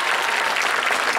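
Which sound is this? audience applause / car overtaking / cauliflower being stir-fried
audience applause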